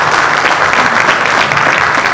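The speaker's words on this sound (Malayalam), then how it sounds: "അവർക്കൊരു വലിയ നന്ദിയും കയ്യടിയും നമ്മുടെ സൈഡിൽ നിന്ന് കൊടുക്കേണ്ടതാണ്" A large audience at the Aashan movie trailer launch breaks into loud, sustained applause, a thick continuous wash of clapping that holds steady from start to finish.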